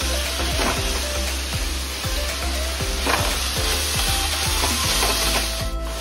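Onions sizzle steadily in a hot pan while being fried for a bhindi dish. The frying hiss stays close and continuous, with rhythmic scraping strokes of a spatula stirring them throughout.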